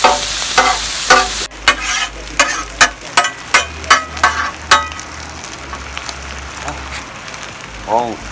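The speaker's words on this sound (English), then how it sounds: "Added some andouille sausage. Shallots and onions are looking really yum." Andouille sausage, shallots and onions crackle loudly on a Blackstone griddle, with a burst of sharp rhythmic scraping and tapping before settling into a steady hiss.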